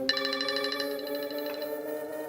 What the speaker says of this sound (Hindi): ये इस वक्त फोन क्यों कर रहा है?